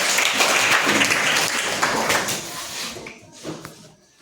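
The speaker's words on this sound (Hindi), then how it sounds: "ताली बजाइए" Schoolchildren in a classroom during a general knowledge quiz break into loud, dense applause that gradually thins out to a few scattered claps.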